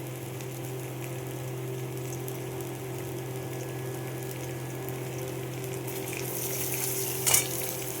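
Onions frying in oil in a pan as part of a boal fish recipe: a steady, moderate sizzle runs throughout, with a brief sharp hiss near the end and no one talking.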